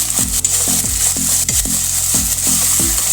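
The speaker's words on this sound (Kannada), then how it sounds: "ಆಮೇಲೆ ಈ ತರಕಾರಿನ ತೊಳೆದಿಟ್ಕೊಂಡಿರೋ ತರಕಾರಿ ಚೆನ್ನಾಗಿ ಎಣ್ಣೆಯಲ್ಲಿ ಹುರಿಯೋಣ" Washed vegetables frying in oil for vegetable rice give a loud, dense sizzle, punctuated by a regular series of sharp utensil scrapes and knocks against the pan, roughly two per second.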